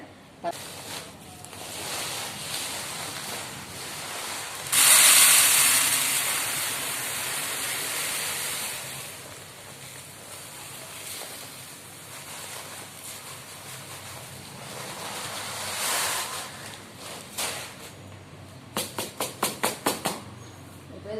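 Dried, broken tamarind is tipped into a bucket in a home kitchen, giving a loud sustained rushing pour near the start, then a quieter stretch and a closing run of quick rattling clatters.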